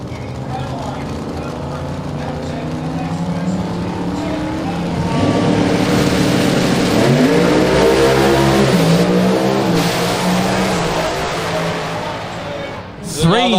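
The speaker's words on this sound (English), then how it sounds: "This Pro Charged car, I'll let you listen to this one." A Pro Charged drag radial race car at an Australian radial racing event revs hard and accelerates, its very loud, close engine note sweeping up and down in pitch for several seconds before cutting off.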